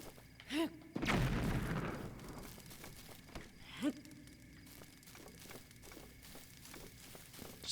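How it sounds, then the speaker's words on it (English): An exploding barrel in The Legend of Zelda: Breath of the Wild's Trial of the Sword gives one loud booming blast, followed by fainter game thuds and footsteps. "Got some exploding barrels."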